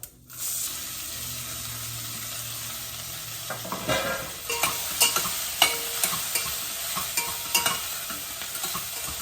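Spring onion stalks fry with a steady sizzle in a hot pan after a tempering of spices and asafoetida, with repeated scraping stirs and clinks growing louder from the middle onward; no one speaks.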